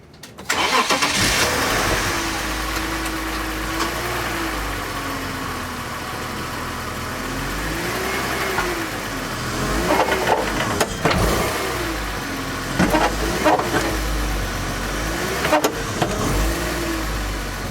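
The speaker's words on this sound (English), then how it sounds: "I'm gonna start the engine, and I'm gonna apply partial emergency brake just to put a load on the tires" BMW E46 engine cranks and fires, then idles and runs steadily under load from a partially applied emergency brake, with repeated rises and dips in engine pitch and a few sharp clunks, close and fairly loud.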